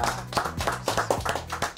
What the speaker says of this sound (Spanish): Un aplauso para la Marcela